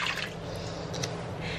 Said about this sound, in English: First you pour your 1 1/2 cup of water